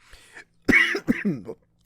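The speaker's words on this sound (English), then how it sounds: "Start this off with some cough in your ears." A few sharp, close coughs in quick succession, the last one rougher, like clearing the throat, in an otherwise quiet room.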